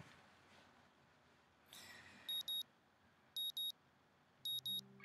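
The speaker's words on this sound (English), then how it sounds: "Sound of alarm pulls me out of a fitful slumber" A video game alarm clock beeps electronically in three evenly spaced pairs of sharp, high tones over a quiet background.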